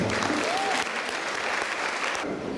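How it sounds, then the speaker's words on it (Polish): Audience applause welcoming the performers onto the stage at a charity concert, a dense steady wash of clapping that holds evenly for a couple of seconds before easing slightly near the end. "Prosimy o brawa na powitanie tych, którzy występują."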